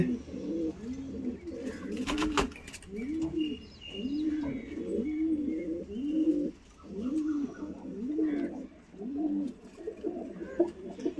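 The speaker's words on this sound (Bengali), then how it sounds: "তো দেখতে পাচ্ছেন যে পায়রাগুলো কি কোয়ালিটির পায়রা।" Pigeons coo in a loft, a close, regular series of soft rolling calls repeating about once a second, with faint chirps and rustling in the background.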